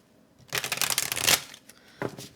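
Tarot cards riffled and shuffled by hand in a close, quiet room: one long burst of rapid flutter and slaps for about a second, then a short second shuffle after a pause.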